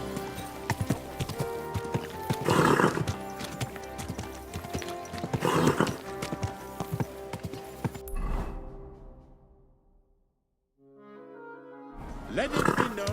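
In the video game Kingdom Come: Deliverance II, hooves clop rhythmically while a horse whinnies and snorts loudly, then a brief near-silence before the clattering returns.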